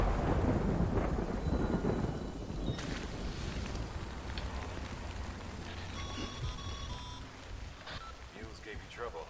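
Thunder rolls with a deep rumble over steady rain in the video game Death Stranding, starting loud and fading, with a speaking voice and a few electronic tones over the storm.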